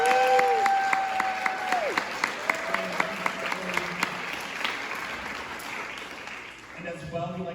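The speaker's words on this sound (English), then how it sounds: "Can we give a big round of applause for them?" Audience applause for sponsors, vendors and panels at PuppetCon 2023, a steady round of crowd clapping with some whoops and voices mixed in, fading near the end as talking resumes.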